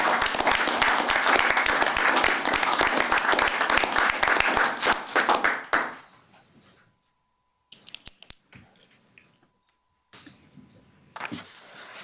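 Loud, dense audience applause at a utility board of directors meeting, honoring the board president, rolling steadily for about six seconds before cutting off into near silence with a few faint scattered claps and small noises.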